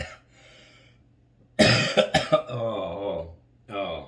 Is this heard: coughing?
yes